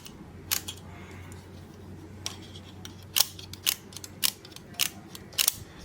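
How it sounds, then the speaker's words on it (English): A Vest Pocket Kodak camera is worked by hand in a quiet room, giving a series of small sharp clicks and mechanical snaps spaced irregularly over a few seconds. "you would unbellow, open up your camera, and you would press the shutter"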